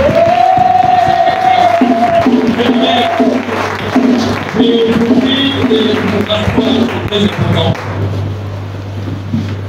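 A church congregation at an evening intercession service loudly acclaiming the Lord, a dense crowd of voices shouting and cheering together with a steady roar throughout and a hint of scattered clapping.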